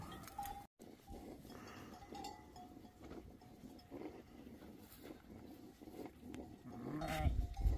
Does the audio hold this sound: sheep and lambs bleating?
yes